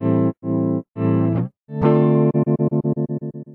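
An electric guitar running through an Empress Effects tremolo plugin switches between programmed speeds, going from a few slow, broad pulses to a fast, even chop on a held chord, loud and alone.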